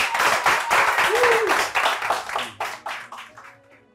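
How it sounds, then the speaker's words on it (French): Star Kids Afrique candidates clap for themselves during a training session, a burst of rhythmic, fairly close handclaps that slows and thins out, fading over the last second with a brief voice early on. "Applaudissez pour vous."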